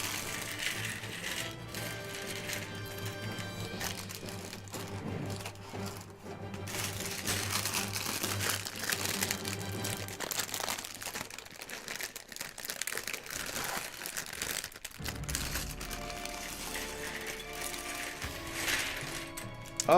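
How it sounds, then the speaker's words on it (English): Lego plastic bags crinkle and rustle continuously, with crisp crackles, small rattling pieces and clicky handling noises close to the mic, and no one speaking. "the ASMR where it's just a bunch of bag crinkling"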